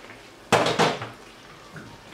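A lid goes onto a cooking pan in a home kitchen: a sharp metallic clatter, then a second knock as it settles, followed by quiet.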